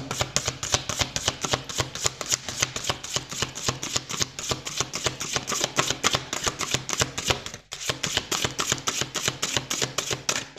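A deck of oracle cards being shuffled by hand, a fast continuous riffle of crisp card flutters and slaps, close and steady for the whole stretch with one short pause midway.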